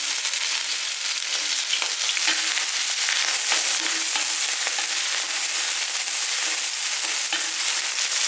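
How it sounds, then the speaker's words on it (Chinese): Chopped scallion, ginger and minced garlic hit hot oil in a home kitchen, giving a dense, continuous sizzle with crackling pops that stays loud and even throughout, with no voices. "油热，我们放入葱姜还有蒜末"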